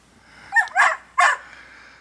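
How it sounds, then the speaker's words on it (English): A dog gives three sharp barks in quick succession, loud and close, with quiet between them and no voices. "Let the dog out!"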